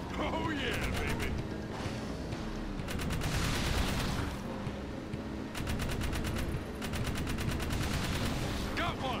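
Rapid gunfire from shooting in Jak 3 comes in several dense bursts of fast, evenly spaced shots, loud and close. Mechanical clanks and game sounds fill the gaps between bursts.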